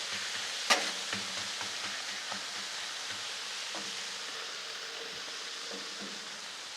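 Pork carnitas fry in a single layer on a Blackstone griddle with a steady, moderate sizzle, a sharp clack near the start and a few faint scrapes and taps mixed in.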